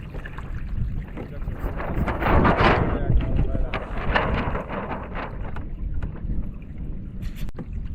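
A sail-rigged kayak glides on open water. Steady wind buffets the microphone and water washes and splashes along the hull, rising in a gust midway, with someone talking over it.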